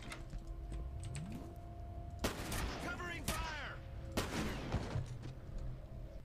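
Gunfire bursts in the video game F.E.A.R., with two loud clusters of rapid shots and echoing impacts over a constant low game backdrop, plus faint keyboard-like clicks between them.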